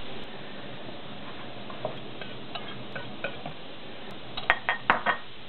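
Egg being stirred into spaghetti carbonara in a pan: soft, quiet scraping and stirring, then a short cluster of sharper utensil clinks against the pan toward the end.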